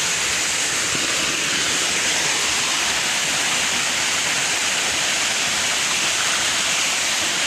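A waterfall at the end of a walking trail roars as a steady, dense, broadband rush of falling water, loud and continuous with no talk.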